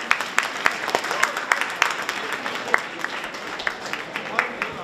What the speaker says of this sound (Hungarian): Ez csak kis taps, nagy tapsot.